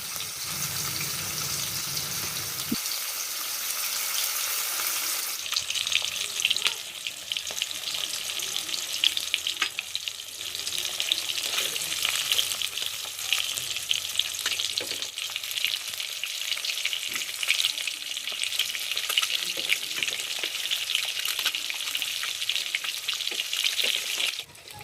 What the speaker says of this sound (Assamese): এতিয়া মাছকেইটা ভাজি ল'ম ভালকৈ।